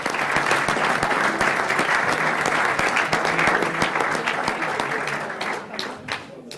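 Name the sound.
audience applause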